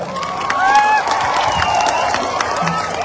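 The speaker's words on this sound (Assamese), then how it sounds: "ৰাইজে সকলোৱে উষ্ম হাত চাপৰি একদম আদৰণি জনাব লাগে" A rally crowd in Assam welcomes politician Pradyut Bordoloi with steady cheering, whistles and scattered clapping, a dense, sustained roar of many voices with no single speaker.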